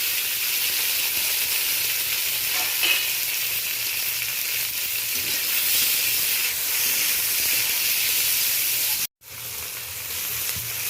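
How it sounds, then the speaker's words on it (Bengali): Onion, green chili and tomato sizzle steadily in mustard oil in a pan, a loud continuous frying hiss with a brief dropout near the end and no talking. "পেঁয়াজ কাঁচা লঙ্কা টমেটো সমস্ত কিছু দিয়ে দিচ্ছি"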